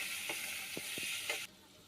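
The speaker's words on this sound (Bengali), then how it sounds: "তারপর একটু নেড়ে ছেড়ে দিব।" Onions fried with ginger garlic paste sizzle in a pan as a spoon stirs, a few soft scraping strokes over a steady hiss that drops quieter near the end.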